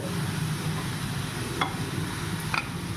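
Banana flower and potato mash is stirred in a pan with fried peanuts and coconut, making a low steady sizzle with two brief spoon clicks against the pan, close but quiet.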